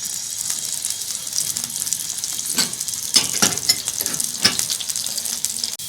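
Ginger and garlic fry in oil left over from frying chicken, a constant close sizzle broken by several sharp scraping stirs of a spoon against the pan.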